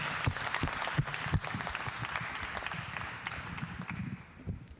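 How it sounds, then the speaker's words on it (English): An audience at an evening design talk claps for several seconds as moderators and panel participants are welcomed. The applause is dense and fairly close, tapering off toward the end. "please welcome me in joining the moderators and the participants with a big clap"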